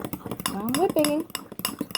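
Whisk or spoon clattering rapidly against a bowl while gluten-free cake batter is whipped, quick repeated scraping taps close by, with a voice talking over part of it.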